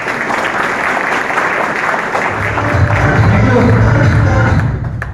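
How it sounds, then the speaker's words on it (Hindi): An audience in a training hall breaks into loud, sustained applause that swells and fills the room, with a voice talking over the clapping at the start. "उन लोगों के लिए एक बार जोरदार तालियां बजाते हैं"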